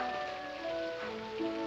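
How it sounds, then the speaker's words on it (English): Rain falling in a 1954 film scene, a steady soft hiss under faint sustained musical tones, quiet and continuous with no speech. "But in this rain."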